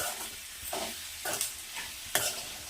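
Fried okra curry is stirred with salt in a hot pan, a spoon scraping in repeated strokes over a steady sizzle, close and moderately loud.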